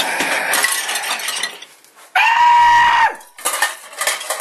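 Dishes and cutlery clatter and clink as a dishwasher is opened, broken by a sharp, sustained squeal partway through before more rattling of the load.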